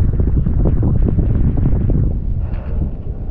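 Strong outdoor wind buffeting the microphone, a loud, rumbling, gusty roar that churns low and heavy and eases slightly toward the end.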